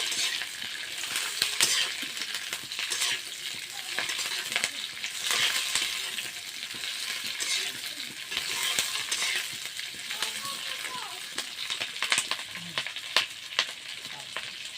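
Green chillies fry in a pan with steady crackling sizzle, stirred now and then with soft scrapes and utensil clinks, close and continuous for about fifteen seconds without talk.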